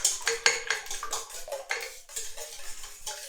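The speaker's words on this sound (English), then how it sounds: "I already have 6 eggs that I'm going to beat now" Six eggs are beaten in a bowl for pizzelles, with quick rhythmic clinks and scrapes of a utensil against the bowl. The sound is close and uneven, with no talk.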